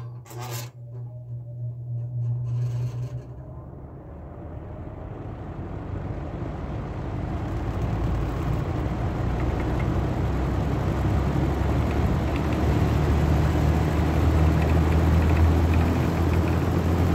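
Holmecrest box fan switched on at low speed, a faint click followed by a soft whooshing hum that builds gradually and steadily as the blades spin up, close by and alone.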